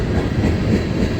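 Hopper cars of a CSX freight train roll steadily past near Patapsco Valley, giving a continuous loud low rumble with faint rhythmic wheel clatter throughout, no voices.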